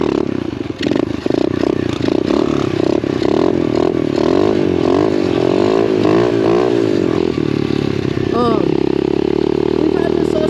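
An SSR 125 pit bike engine runs while warming up, a close, loud, steady mechanical drone with clattering, a few throttle blips and a brief rising rev near the end. A voice talks over it.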